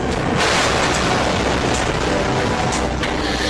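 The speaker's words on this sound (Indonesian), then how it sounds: "pesawat marinir ini pun langsung jatuh menghantam landasan dan meledak seketika" A military plane crashes onto a runway and explodes in a continuous, roaring rumble that fills the whole stretch, loud and dense with crackling bursts.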